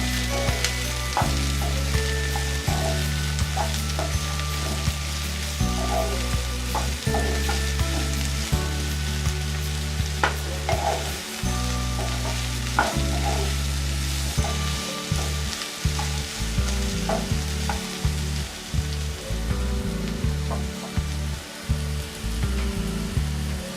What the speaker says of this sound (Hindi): अब हम इसमें डालेंगे हमारी तुरई, जिसे मैंने छील के बारीक टुकड़ों में काट लिया है। और इसे अच्छे से मिक्स कर लेंगे।